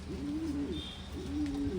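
Pigeons coo in two soft, rolling phrases close by, with a faint higher chirp between them over a quiet background.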